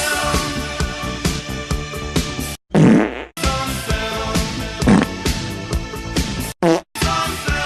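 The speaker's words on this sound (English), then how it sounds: "I'm just gonna play the fart" A fart sound played as part of a guess-the-film party game, several loud, brassy, sputtering bursts with short gaps between them, alone with no talking.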